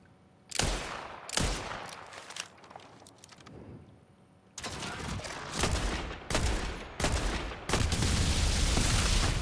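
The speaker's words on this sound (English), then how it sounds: "Rookie, shoot the bomb!" Rapid bursts of automatic gunfire and heavy blasts from a Borderlands 4 firefight, loud and close, arriving in clustered volleys that build into a sustained barrage.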